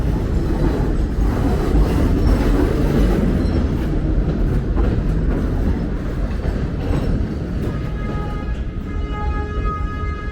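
Loud, heavy rumble of a New York City subway train rolling past on New Utrecht Avenue in Brooklyn, with a faint metallic squeal of wheels toward the end.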